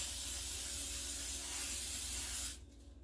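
Coconut oil cooking spray hisses into a pan in one continuous, close burst lasting a couple of seconds, then cuts off, leaving quiet kitchen background.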